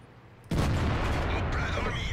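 Tank cannon fire from an AMX 50 B in World of Tanks, a sudden heavy blast that cuts in after near silence and rolls on as a sustained loud rumble with rattling, booming game battle noise.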